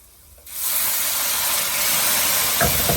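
Steam hisses loudly and steadily from a pot of red lentil dahl just after water is added, starting abruptly and holding a bright, constant sizzle with a faint crackle near the end.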